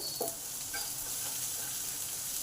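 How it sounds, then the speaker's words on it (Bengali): Onions frying in a pan with salt for a leafy greens dish, giving a steady soft sizzle throughout with faint stirring, no voices. "পেঁয়াজটা একটু লাল লাল করে ভাজবো"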